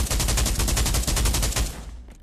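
Rapid automatic rifle fire in the VR shooting game Pavlov, a fast unbroken string of loud close shots that stops abruptly near the end.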